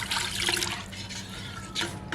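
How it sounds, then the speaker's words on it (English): Water pours and splashes into a pan of panang chicken curry cooking over a campfire pit, a steady, fairly soft liquid rush lasting a couple of seconds. "And then I always add a bit of water"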